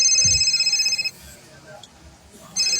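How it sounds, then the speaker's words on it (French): A telephone rings with a shrill electronic trill, one ring burst at the start and another beginning near the end, separated by a quiet pause with faint background sound. "c'est parce que le téléphone sonnait"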